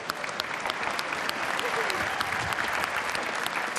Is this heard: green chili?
no